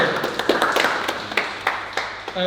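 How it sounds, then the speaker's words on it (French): Scattered hand clapping from a small studio audience for a French boxing champion, a handful of separate claps, moderately near and fairly quiet, with a brief voice at the end. "On peut l'applaudir, on peut l'applaudir."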